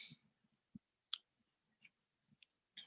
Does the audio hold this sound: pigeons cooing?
no